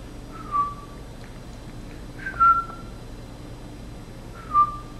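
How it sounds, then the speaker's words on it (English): A person gives three short, clear whistles, evenly spaced about two seconds apart, to call a Sheltie puppy, close and distinct against a quiet room. "If you want a whistle, she'll look at you."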